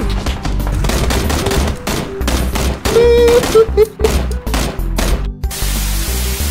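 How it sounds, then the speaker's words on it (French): Rapid automatic gunfire in PUBG crackles in dense bursts, loud and close, with brief pauses between volleys and a sharp cutoff near the end. "on nous tire dessus"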